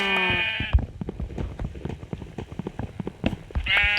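Sheep bleat in loud, close calls at the start and again at the end, with scattered clattering and rustling between them.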